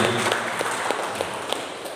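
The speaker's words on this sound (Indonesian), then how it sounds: "Tepuk tangan buat Tuhan Yesus Kristus" A church congregation applauds in praise during a sermon, a steady wash of clapping at moderate level with a few sharper individual claps standing out.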